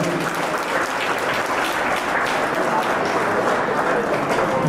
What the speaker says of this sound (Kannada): ಇದಕ್ಕೆ ಅನೀಶ್ ಕ್ರಿಯೇಷನ್ಸ್ ನ ಅನೀಶ್ ಅವರಿಗೆ ಒಂದು ಜೋರಾದ ಚಪ್ಪಾಳೆಯನ್ನು ನೀಡೋಣ